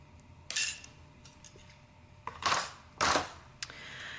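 Metal shears cut a metal stamping blank with a handful of sharp, crisp snips spaced over a few seconds, close and fairly quiet against a faint background.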